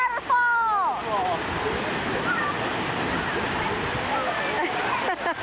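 A waterfall on Maui roars as a continuous broadband rush, close and fairly loud, with a brief burst of children's shouting near the start.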